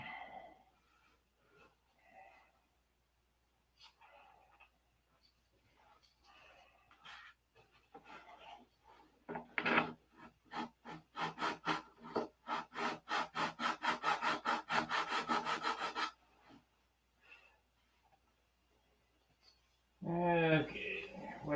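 Sandpaper works the wing of a P-47 Razorback model in quick rhythmic back-and-forth strokes, close and steady, after quiet movements and before a voice speaks.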